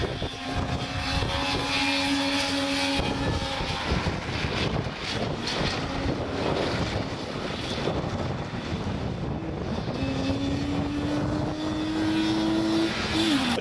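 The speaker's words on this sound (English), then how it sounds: "the two-stroke Saab 96 were next onto the stages, the distinctive engine note howling its way through the forests" Two-stroke Saab 96 rally car racing a historic forest stage in mid Wales, its engine howling loud and steady throughout, pitch rising and falling through gear changes, with wind buffeting the microphone.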